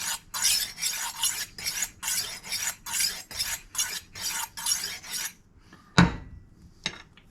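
A knife blade is drawn back and forth across the honing disc of a Tumbler rolling knife sharpener, giving about a dozen close, steady rasping strokes in an even rhythm, then a pause and a couple of sharp clicks as the knife is reseated.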